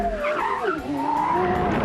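A Porsche Carrera GT with a 612-horsepower V10 and 335-series 20-inch sports tires skids on tarmac, a loud, close tire squeal with shifting pitch over engine roar, continuous for about two seconds.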